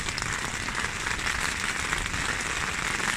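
Steady rain patters on a taut tent flysheet overhead at Phu Thap Boek, Thailand, a dense, even drumming that continues without pause and without any voices.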